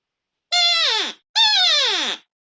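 A reed elk call blown to imitate a deeper bull elk mew: two loud, close, nasal calls, each about three-quarters of a second long and sliding downward in pitch, separated by a short pause with no talk.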